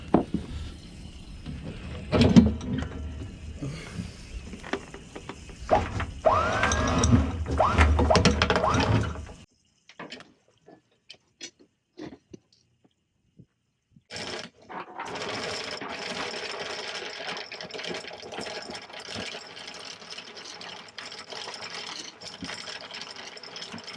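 Anchor chain rattles out through a boat's windlass gypsy in a steady mechanical clatter, loud for several seconds, then stops into near silence with a few scattered clunks before a continuous grinding run resumes.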